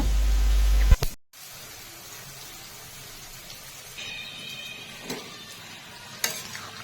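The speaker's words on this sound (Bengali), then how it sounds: "কড়াইয়ে সরষার তেল দিয়ে গোটা জিরা মশলা ফোড়ন দিয়ে সবজি ঢেলে দেব" Vegetables for spinach go into mustard oil tempered with whole cumin, and a loud sizzle starts. After a brief cut-out it settles into a quieter, steady frying hiss with a few soft clicks.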